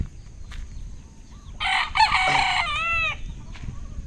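A rooster crows loudly nearby in one long, wavering call, with faint clucking from chickens around it.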